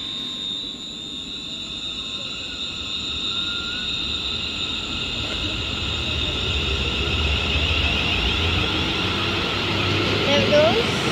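A Class 380 electric train pulls out of Paisley Gilmour Street bound for Ayr, giving a steady mid-distance rumble and whine that builds gradually.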